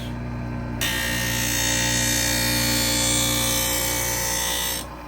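A carbon steel ice skate blade is drawn across the grinding wheel of a Wissota 911 sharpener set to a 1/2 inch hollow at an ice rink, giving a loud, steady rasping grind of about four seconds over a constant machine hum.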